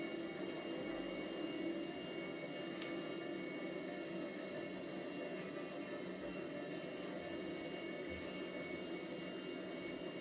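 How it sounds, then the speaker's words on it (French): A Boeing 747 in GTA lowering its landing gear and braking on approach to Sandy Shores: a steady, even jet-engine drone with a whining tonal hum and low rumble, continuous and unchanging throughout. "je vais sortir le train d'atterrissage, freiner un peu"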